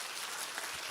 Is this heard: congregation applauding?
yes